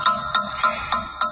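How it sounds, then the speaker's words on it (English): A phone text message notification tone chimes five times at an even rhythm, each a short bright ping, moderately loud and close with no talking, in a room where a gimbal is set up on a tripod. "somebody's texting me and it's driving me crazy"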